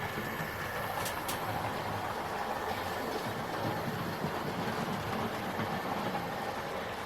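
A Bachmann model locomotive runs along its track with a steady, unbroken mechanical whir and rumble that holds at an even level throughout, with no voices.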